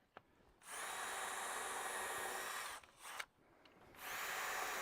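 A power drill driving drill bits while fitting a gate latch: a small click, then two sustained high-pitched whirring bursts split by a short pause, close and loud.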